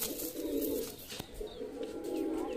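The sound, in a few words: Punjabi Malwai pigeons cooing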